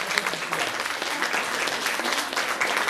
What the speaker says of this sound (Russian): Аплодисменты Богу воздайте